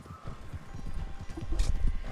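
Horse hooves clip-clop steadily in the video game Red Dead Redemption 2, a close rhythmic trot of muffled thuds that grows a little louder toward the end, with no talking over it.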